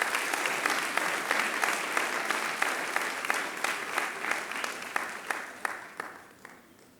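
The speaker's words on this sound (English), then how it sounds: "A round of applause" Sustained, dense applause fills a hall at a university research awards ceremony for the 2024 Best Researcher award recipient. It rises quickly, holds steady for several seconds, then thins into scattered claps near the end.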